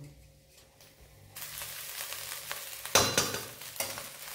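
Rice being stir-fried in a pan for vegetable fried rice, a sizzle that rises after a quiet start, with repeated close scraping strokes of the spatula and one louder clatter, no talking.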